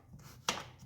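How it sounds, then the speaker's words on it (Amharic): Garlic chopped on a board with a knife, a single crisp chop standing out against a faint quiet background. "ነጭ ሽንኩርቱን ልክተፈው ለጣዕም ይሆናል"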